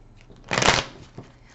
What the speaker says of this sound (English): think about this person as I'm shuffling